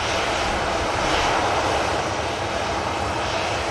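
Ryanair airliner jet engines spool up at an airport, making a loud, broadband roar that stays close and steady throughout the short stretch.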